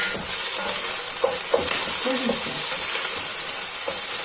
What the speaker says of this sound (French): Donc à feu vif, on fait revenir les oignons.